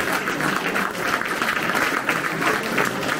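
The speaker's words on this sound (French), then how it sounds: "On peut tous les applaudir" Audience applause at a town mayor's New Year greetings ceremony in Léran honoring award winners, a steady wash of many hands clapping throughout, no speech over it.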